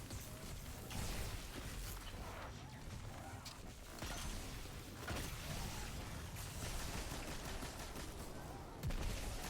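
Grenade blast and gunfire in Destiny 2, an Arc Titan running a master Lost Sector with the Arbalest, come as dense, continuous combat noise with sharp bursts and a loud impact near the end.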